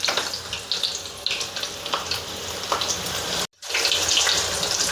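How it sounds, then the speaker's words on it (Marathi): Moong and palak bajji fritters frying in hot oil, a steady loud bubbling sizzle with a short sharp cut in the middle before the crackling continues. "आपलं तेल ऑलरेडी गरम आहे त्याच्यामुळे एक एक करून आपण सोडून देऊया."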